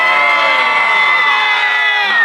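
An audience at a juggling show cheers, whoops and screams loudly and continuously, with children's shrill voices mixed into the dense crowd noise.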